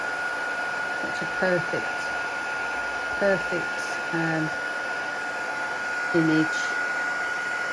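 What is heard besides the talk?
heat tool blowing for heat embossing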